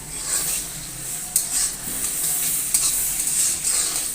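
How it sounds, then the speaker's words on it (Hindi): Finely chopped tomato frying lightly in a pan with garlic paste and ginger powder for dhaba-style chana dal, a steady close sizzle with occasional stirring clinks and scrapes, no voices. "टमाटर को हल्का सा फ्राई कर लेंगे।"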